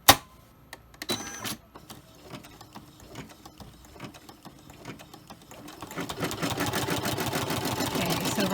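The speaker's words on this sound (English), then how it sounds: "we are going to sew it one more time with our running stitch." An embroidery machine sewing a running stitch through several layers of an in-the-hoop purse charm. A few soft clicks come first, then a close, steady rapid needle chatter builds and runs on.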